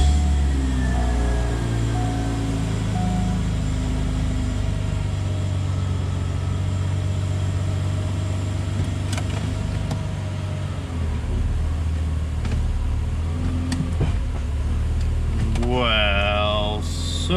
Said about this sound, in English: let's start the car, clear the code, start the car, see if the code went away.